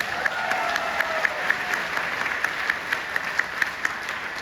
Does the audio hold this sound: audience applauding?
yes